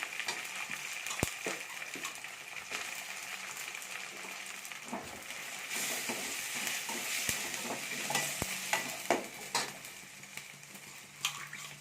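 Tomatoes and green chilies sautéing with ginger-garlic paste for a village-style parotta salna, a continuous close sizzle broken by repeated spoon-on-pan scrapes and clinks as the mixture is stirred.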